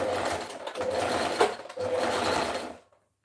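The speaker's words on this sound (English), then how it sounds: "I will take it to the machine right now. You have to go ahead and stitch." A sewing machine runs steadily while stitching a garment for a two-piece top and skirt, whirring in two continuous bursts with a brief pause between them, then stops into silence.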